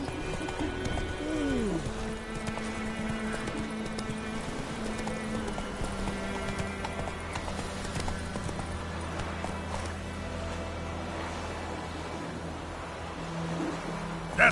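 Roach, the horse in The Witcher 3, galloping with a steady rhythmic clip-clop of hooves, a brief whinny near the start, over a bed of game music.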